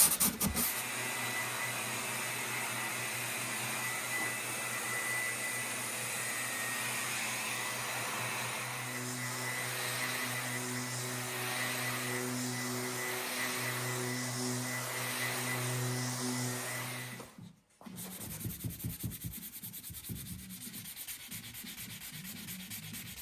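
A fine-grit orbital sander whirs steadily against a wooden china cabinet for a long stretch, its hum shifting in pitch, then cuts off abruptly before faint rubbing sounds.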